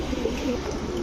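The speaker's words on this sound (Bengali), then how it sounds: "এটা হচ্ছে ইন্ডিয়ান বোম্বাই কবুতর মাদি" A female Indian Bombay pigeon gives a brief, soft, low coo up close, alone and without talk.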